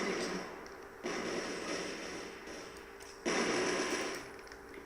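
M16 rifle fire in the online shooter Cross Fire comes in sustained automatic bursts, one roughly two seconds long and another starting near the end, loud and dense over game background.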